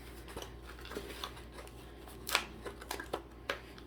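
Scissors snipping through paper goody-bag cards for children's Valentine's bags, a run of quiet, irregular close-up cuts with a few sharper snips near the end.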